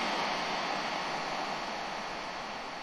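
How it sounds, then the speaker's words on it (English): A steady, loud whooshing roar of a Hoover vacuum cleaner recorded at home, running continuously, its tone smoothed and slightly filtered by equalisation, with no pauses or voices. "So I recorded a Hoover at home, which sounds like this."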